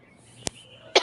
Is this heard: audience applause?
no